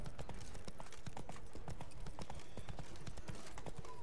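Rapid, uneven clip-clop of a horse's hooves knocking on hard stairs in Witcher 3: Blood and Wine, continuous and fairly faint.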